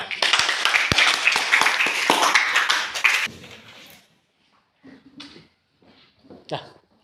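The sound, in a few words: class clapping hands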